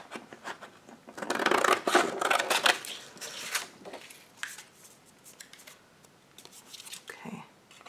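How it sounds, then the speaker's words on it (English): Scissors snipping roughly around a wooden double-sided thank-you tag, a burst of dense crisp cuts early on, then sparser, quieter snips and paper-like rustles, close up with no talking. "first I'm going to cut like general, and then I'll cut more precisely in a minute"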